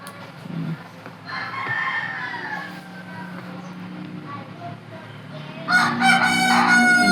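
A neighbor's rooster crows from a distance, a drawn-out cock-a-doodle-doo, then a second, louder crow rises near the end over a quiet household background.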